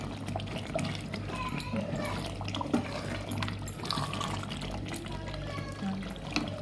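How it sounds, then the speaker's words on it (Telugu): Water trickles and pours quietly into a simmering goat tripe curry in a cooking pot, a low steady liquid sound with faint background hum. "దీంట్లో ఇప్పుడు మనం వాటర్ వేసుకోవాలండి"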